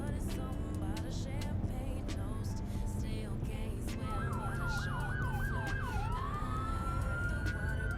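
Emergency vehicle sirens in American Truck Simulator wail over a steady rumble of truck engine and road noise. A rapid yelping siren starts midway, then shifts into a long rising wail that continues to the end.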